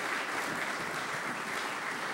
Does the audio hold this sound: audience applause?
yes